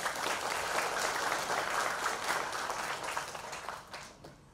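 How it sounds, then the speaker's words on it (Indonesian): Applause from a live event audience at a gathering in Indonesia fills the room, steady and dense, then gradually thins and fades toward the end. "Tepuk tangan dulu buat semuanya."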